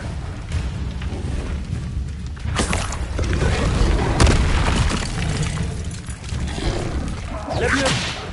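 Booming blasts from the Bombarda explosion spell in the video game Hogwarts Legacy, several heavy rumbling bursts with whooshing tails over about eight seconds, loud and dense, a faint voice underneath.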